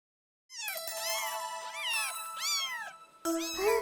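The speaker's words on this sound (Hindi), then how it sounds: "टीटू, बिल्ली मिल गई क्या?" A cartoon cat in a Hindi children's cartoon meows repeatedly up close, several drawn-out rising and falling cries in a row, clear and fairly loud.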